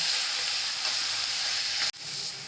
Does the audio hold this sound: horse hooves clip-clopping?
no